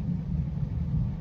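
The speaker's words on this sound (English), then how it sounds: "You guys hear that thunder." Thunder from a rainstorm rolls as a low, steady rumble that stays at an even level for the whole short moment, with no voices over it.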